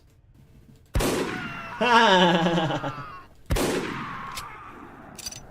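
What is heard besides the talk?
gunshots from shooting enemies in itch.io horror video game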